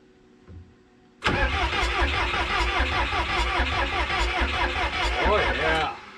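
A 1986 Lull 644 Highlander II telehandler that sat unused for many years cranks over in a loud, rhythmic, close churning for about five seconds, then stops abruptly. A voice is heard faintly nearby.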